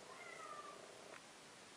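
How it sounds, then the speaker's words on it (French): A domestic cat meows faintly outside, wanting to be let in, with one drawn-out cry and a brief second call against low room hiss. "Je suis en train de me faire harceler par le chat, qui veut absolument rentrer."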